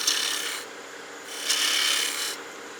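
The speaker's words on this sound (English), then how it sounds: "I'm just going to do a series of V-cuts here to remove some of this material" Lathe tool cutting V-grooves into a turned wood gnome ornament: two bursts of steady scraping rasp, close and fairly loud, separated by a short lull.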